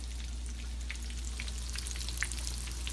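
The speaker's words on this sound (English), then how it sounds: "Now you just want to fry them till they're golden brown." Shrimp frying in oil give off a soft, steady sizzle with scattered small pops and crackles, faint and even throughout.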